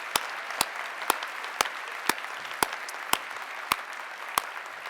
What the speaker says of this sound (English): can we please all give her and her team a big round of applause for their great work?